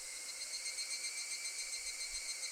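Cicadas shrill in a steady, loud, unbroken drone in the Higurashi visual novel, a dense high buzz filling the scene with no other sound.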